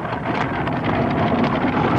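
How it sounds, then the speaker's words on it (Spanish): A strong wind blows in a loud, continuous gusty roar that buffets the microphone, sustained and unbroken with no speech. "¡Vaya qué viento más fuerte!"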